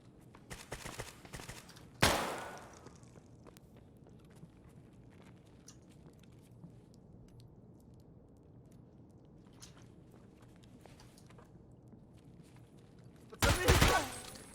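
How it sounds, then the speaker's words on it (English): Two muffled suppressed SKS shots in Escape from Tarkov on the Factory map, one near the start and another near the end, distant and sharp over a low, steady background rumble. "I start hearing what sounds like a silenced SKS"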